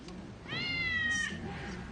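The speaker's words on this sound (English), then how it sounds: "A remote-controlled feline whine operated by R.V. Gould" A remote-controlled noisemaker called the Meower gives out a single drawn-out, whining cat meow that rises, then holds a steady pitch. It plays in a courtroom over a low murmur of background noise.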